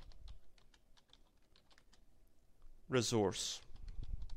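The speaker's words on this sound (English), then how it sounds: "Simply type, look at the keyboard, type what you want and it will immediately appear on screen." Quick, light keystrokes on a computer keyboard tap along in a steady patter while someone types text during a smart board lesson; a voice briefly speaks over the clicking.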